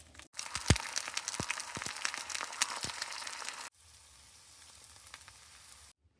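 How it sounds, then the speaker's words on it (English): Bacon sizzles and crackles in a hot pan, loud and close with sharp pops for the first few seconds, then drops to a quieter steady fry before cutting off. "Boy, it doesn't take long to cook that bacon and it get really burnt."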